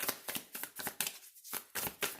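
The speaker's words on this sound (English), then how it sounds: "One more shuffle, and then we're gonna go." Tarot cards being shuffled in quick, rhythmic riffles, about eight crisp bursts over two seconds, close and fairly quiet with a brief gap midway.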